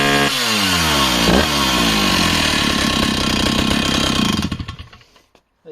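Vintage 1970s chainsaws, among them a Husqvarna 162SE, a Rancher 61 and a Stihl 04, cutting through wood: one loud, close two-stroke engine howls at full throttle under load, then drops off and sputters to idle near the end.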